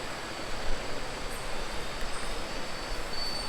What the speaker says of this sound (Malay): Ini adalah kawasan air terjun.